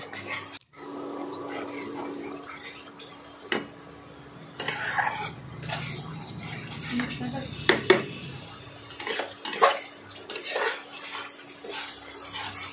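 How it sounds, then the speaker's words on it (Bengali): Spice powder fries in a pan while a utensil scrapes and clinks against the metal in irregular bursts, with muffled talking and background hiss throughout. "দিয়ে এদিক ওদিক করে ভালোভাবে নাড়াচাড়া করে ভাজলাম"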